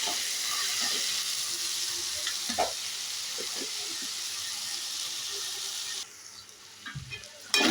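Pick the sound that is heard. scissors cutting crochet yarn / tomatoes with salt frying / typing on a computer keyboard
tomatoes with salt frying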